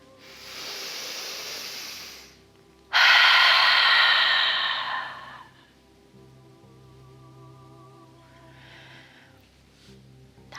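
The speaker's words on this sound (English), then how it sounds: "we're going to puff all that air out as long as we can" Two long, loud, breathy exhales during a guided breathing exercise: the first lasts about two seconds, and the second is stronger and drawn out. Quieter breathing and faint background sound follow.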